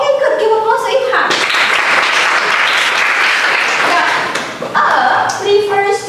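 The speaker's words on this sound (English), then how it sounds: "Give applause to Ilham." A class bursts into loud applause for a student during an English lesson, a thick burst of clapping lasting about three seconds, with a voice talking just before and again right after.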